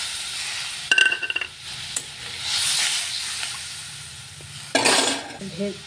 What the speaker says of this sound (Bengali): এখন আমি অল্প জল দিয়ে দিচ্ছি।